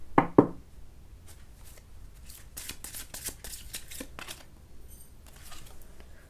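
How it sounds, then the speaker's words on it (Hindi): Tarot cards drawn from a deck and laid down: two sharp taps at the start, then a run of soft, crisp card slides and flicks close by, with no talking. "कुछ कार्ड्स और लेते हैं।"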